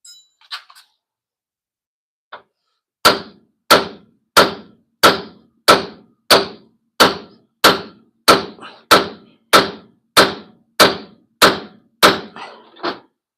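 A hammer strikes metal in a home garage while someone works to free a stuck part with a pickle fork: after a couple of faint knocks, about a dozen loud, evenly spaced clanging blows ring out close by, with no talking.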